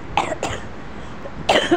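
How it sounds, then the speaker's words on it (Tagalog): Three short, sharp coughs from someone close by: two quick ones together, then a pause and a louder third. "may ubo na ako"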